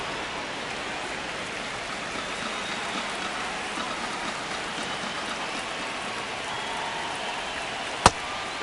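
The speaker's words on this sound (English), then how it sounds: "This rain is not letting up." Steady rain pours over a baseball game, a dense even hiss that stays constant throughout, with one sharp brief knock near the end.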